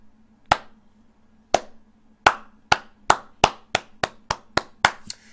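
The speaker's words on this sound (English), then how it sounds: "For Mona, please engage with me in a soul clap for her character, bro." A single person does a soul clap, sharp close hand claps that start slow and widely spaced and then speed up into a quick, accelerating run, each crack loud and dry against near silence.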